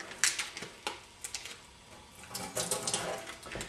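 Water poured off a package of extra firm tofu, a close, short splashing trickle with small drips and a brief gurgling spill, uneven and spattery.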